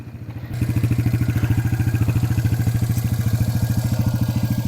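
A motorcycle engine idles close by on red sand in Riyadh with a steady, throbbing putter that jumps louder after a half-second and holds its even rhythm throughout.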